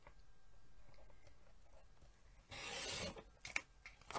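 A paper trimmer slices along the edge of a photo in one short, brisk rasping cut that lasts about half a second after a quiet stretch, followed by a few faint handling taps.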